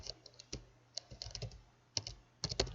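Typing on a computer keyboard during CAD layer setup: a quick irregular patter of close, crisp key clicks with a couple of brief pauses, fairly quiet and with no speech.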